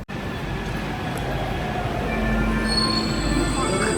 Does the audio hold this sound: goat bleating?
no